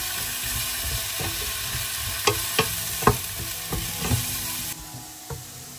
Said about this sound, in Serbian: Sve ću to promešati i nastaviti da pržim